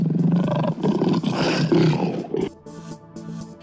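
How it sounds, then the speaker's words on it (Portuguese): A lion gives a loud, close, rumbling roar that swells and holds for over two seconds before cutting off into a quieter, tonal background. "Quando o leão viu Andro, ele rugiu muito alto."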